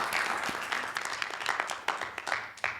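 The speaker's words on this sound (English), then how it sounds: "Can we just get one more round of applause for her?" Applause from an audience at a campus talk on race and racism, a steady wash of many hands clapping with scattered sharper claps standing out, fairly close and continuous throughout.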